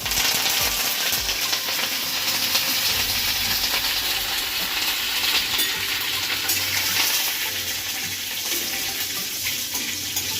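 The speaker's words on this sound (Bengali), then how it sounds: "গরম হয়ে গেছে, এর মধ্যে আমি কালো সর্ষে একটু ফোড়নে দিলাম" Black mustard seeds and curry leaves sizzling in hot mustard oil, a continuous bright crackle and hiss with scattered pops, steady and close, no talking.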